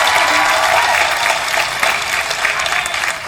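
Graduation crowd at Bristol Eastern High School claps loudly and continuously, a dense wash of many hands close and steady for the whole stretch with some cheering mixed in.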